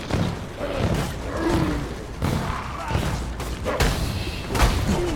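Explosions in the action role-playing game Path of Exile: a series of heavy thumping blasts and booms at irregular intervals under a continuous bed of game noise, with someone talking over them.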